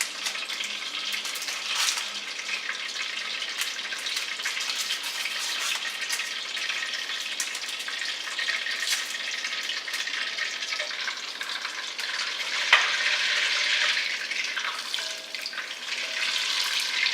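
Butter melting into olive oil in a pot, a continuous mid-level sizzle that holds steady throughout with occasional small crackles and one sharper pop, no voices.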